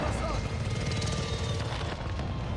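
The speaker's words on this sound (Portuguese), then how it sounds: "Helicóptero de suporte a caminho." A support helicopter arrives in Call of Duty Warzone 2, its rotor thudding loudly and continuously beneath game noise, with a voice speaking over it.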